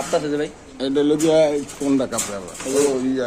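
Racer pigeons coo in soft, throaty bursts close by at a pigeon farm, with a voice speaking intermittently among the calls.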